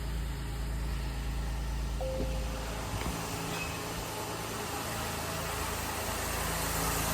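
A 2022 Acura MDX engine idles steadily just after a spark plug change, a continuous low hum and rumble heard close up with a faint ticking on top and no talk.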